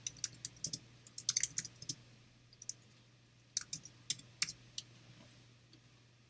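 Keys clatter on a computer keyboard in short irregular bursts of quick clicks with brief pauses between them, close and fairly quiet in a still room.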